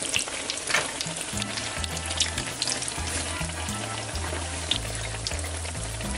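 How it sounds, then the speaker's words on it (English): Eggplant slices fry in a pan of oil with a steady, dense sizzle that crackles close and loud throughout, accompanied by low tonal background music. "You have a lot of slices here that have to be fried."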